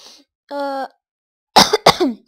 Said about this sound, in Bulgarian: извинете, че кашлям